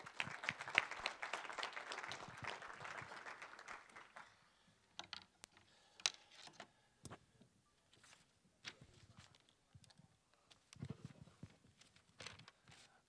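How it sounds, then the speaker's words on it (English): An audience gives a short burst of applause for the USA Boxing executive director at a morning gathering, fading after about four seconds into scattered claps, shuffling and small clicks in a quiet room. "Let's have a nice round of applause for our Executive Director of USA Boxing"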